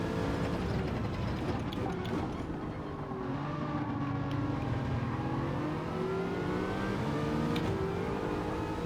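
Race car engine in a sim racing game with no balance of performance applied, a steady loud drone rising and falling in pitch as it revs and shifts through the whole stretch, no talk over it.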